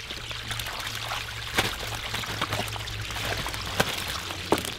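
Live river carp slap and thrash in water at a rural fish shop in a valley, giving a steady watery churn broken by a few sharp splashes.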